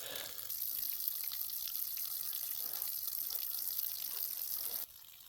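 Natural spring water runs through newly joined pipes into a spring box in Alaska, a steady close trickle and splash with no letup that cuts off abruptly near the end.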